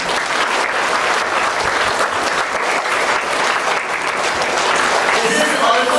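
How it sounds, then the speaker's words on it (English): Sustained, dense applause from an audience at a CBSE school assembly in Kolhapur, many hands clapping steadily without pause for the full stretch. "So clap loudly for them."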